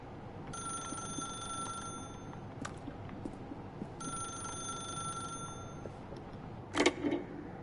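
A telephone in The Stanley Parable video game rings in two long electronic bursts over a low ambient hum, followed by a brief clatter near the end.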